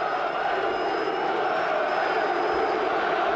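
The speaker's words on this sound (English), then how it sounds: "Crowd getting frustrated." Stadium crowd at a Newcastle United versus Leicester football match, a steady broad roar with restless murmuring from a large crowd, continuous and fairly loud throughout with no single voice standing out.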